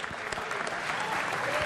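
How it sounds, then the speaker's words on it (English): Crowd at an Australian boxing event applauds boxer Marcus Haywood in steady, dense clapping, with an announcer's voice over it. "a round of applause, absolutely"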